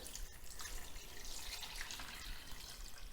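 Water trickles steadily into a cooking pot, making a continuous faint splashing and dribbling sound with no talk.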